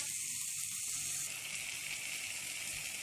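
Tomatoes sauté in a hot pan with a steady, even sizzle and frying hiss that carries alone throughout at moderate loudness.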